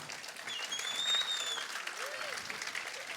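A concert crowd applauds as the host is welcomed on stage, steady clapping with a couple of whistles rising above it.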